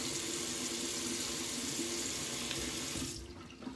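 Water runs steadily from a tap during a rinse after a straight razor shave, a close, even hiss that cuts off abruptly near the end.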